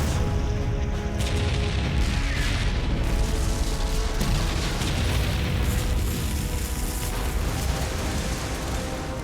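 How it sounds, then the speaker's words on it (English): German artillery guns firing at approaching landing craft near shore, heard as a dense, continuous roar of booms and blasts with no pauses, loud and close throughout. "As they near shore, they come within range of the Germans' well-placed guns."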